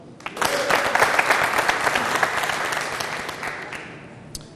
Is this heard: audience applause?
yes